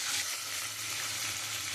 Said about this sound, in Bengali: আমি এক এক করে সব চিংড়ি মাছগুলো ভেজে নেব।